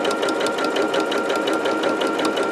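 A sewing machine runs a topstitch half a centimetre from the edge of black fabric for a tote bag, its fast, even needle chatter steady and close throughout with no talk.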